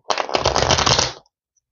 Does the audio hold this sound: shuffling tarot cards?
yes